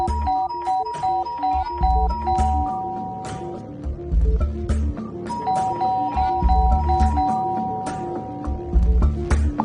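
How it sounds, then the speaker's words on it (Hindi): A doorbell at a home door rings on and on, its chime tones repeating in loud, overlapping bursts, as if someone were sitting on the button, with no pause across the stretch. "लगता है कोई घंटी पे बैठ गया"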